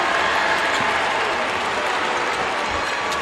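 A packed high school basketball championship crowd at the 2025 Atlee versus Varina game claps and cheers in a loud, continuous wash of applause.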